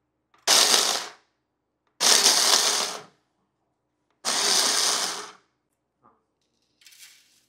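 A kitchen mixer grinder powders sugar fine for malida laddu in three loud bursts of whirring, each about a second long and separated by pauses, followed by a couple of faint clicks.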